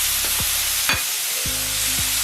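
Garlic, green onion, seafood and meat stir-fry fast in a hot wok for jjamppong pasta. A loud, dense sizzle carries a few sharp scraping sweeps of the spatula.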